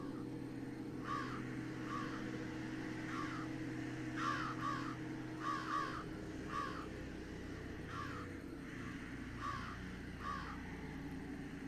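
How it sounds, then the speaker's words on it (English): Crows or ravens cawing in the video game Jenny LeClue, harsh repeated caws coming in short clusters every second or so over a low ambient drone, moderately quiet and without speech. "These crows, or ravens, or whatever they are, those are horrifying."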